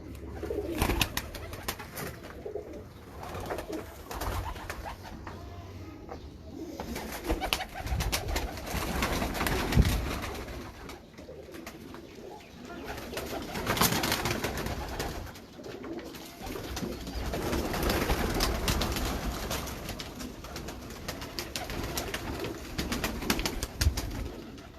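Sialkoti pigeons coo continuously in a loft, with soft overlapping throaty calls rising and falling under a steady background hum and no clear speech.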